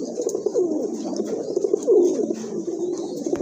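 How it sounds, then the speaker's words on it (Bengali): A pair of pigeons coo close by in a cage, low rolling calls repeating steadily and fairly loud, with no talk over them. "খুবই ভালো মানের এক জোড়া কবুতর, আর কালারটাও কিন্তু রেয়ার।"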